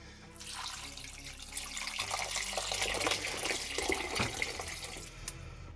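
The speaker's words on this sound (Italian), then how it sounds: "Dovete solo mettere acqua." Water runs steadily into a pot of ragù alla bolognese, a continuous close splashing pour with a faint fluctuating trickle throughout and no talk.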